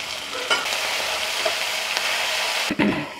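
Onions, tomatoes and curry leaves sizzle in a hot pan as they are stirred, a close, continuous frying hiss with a few scrapes, cooked for Nellore stuffed brinjal curry.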